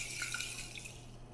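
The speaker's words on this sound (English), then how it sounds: "So I swirl it around, I dump it out" Water sloshes and pours out of a jar as sprouts are rinsed, a short, soft, close-up swirl and splash with a thin trickling quality.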